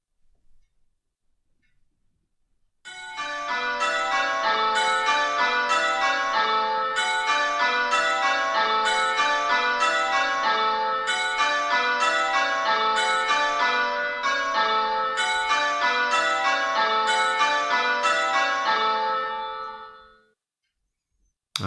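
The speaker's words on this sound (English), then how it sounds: "it was the fourth bell sound" Several struck bells ring in a steady repeating pattern for a listening quiz, a clear sequence of sustained, overlapping tones that continues evenly for around seventeen seconds before fading out, heard alone without talk.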